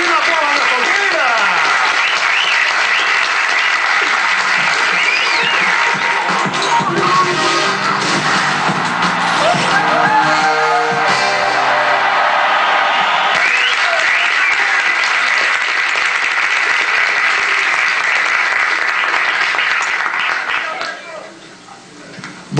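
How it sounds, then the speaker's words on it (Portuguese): An audience gives loud, sustained applause and cheering for a guest on a Brazilian show, the clapping staying dense and full for about twenty seconds before tapering off at the end. "Uma salva de palmas para Júlio César."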